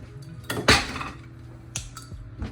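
Dishes, pots and a measuring cup clatter and clink in a home kitchen while blueberries are readied for brunch, two sharp bursts of clanking followed by a few lighter knocks, close and fairly loud with no talking.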